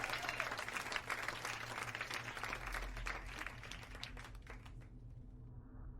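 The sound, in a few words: applause for contest winner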